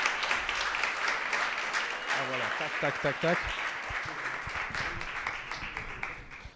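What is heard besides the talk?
audience applause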